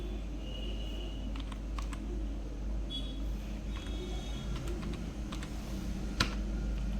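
Computer keyboard being typed on while entering loan software records, a quick, irregular patter of key clicks over a steady low hum, close but fairly quiet, with no talking.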